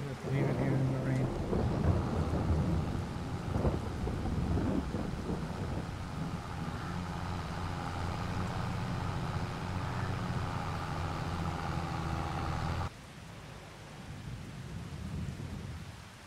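Rain and thunder in Farming Simulator 22: a steady, loud wash of rainfall with low rumbling thunder that keeps on for most of the stretch, then eases to a quieter patter near the end.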